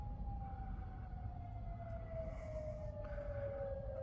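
A civil defense siren sounding for a tornado warning holds a long, slowly falling tone that rings out from afar over a low rumble, with no talking.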